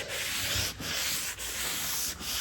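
Hand sanding along the edges of a wood floor gives a close, continuous abrasive rasp, repeated in even back-and-forth strokes with brief dips between passes.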